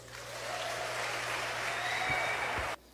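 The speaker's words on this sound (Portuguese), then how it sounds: "Prepara para aplaudir." A church congregation applauds during a sermon, a steady wash of clapping from many hands sustained for a few seconds at moderate distance before stopping abruptly.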